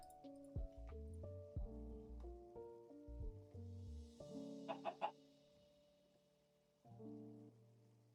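Faint clucking of a chicken in the Minecraft StoneBlock modpack, small intermittent calls scattered over soft game music tones, with no talking.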